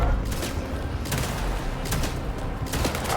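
Gunfire shooting through a wall in Vampire The Masquerade Bloodlines 2, loud repeated bursts of shots in clusters with brief gaps, close and harsh.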